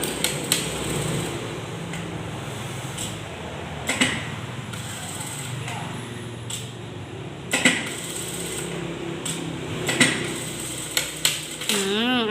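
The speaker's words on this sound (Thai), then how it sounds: "เย็บสี่เหลี่ยมโดยที่ให้มันเสมอกัน" A Shunfa S4-4D sewing machine stitches a rectangle pattern with a steady mechanical whir, punctuated by sharp clicks and knocks as the fabric is turned at the corners.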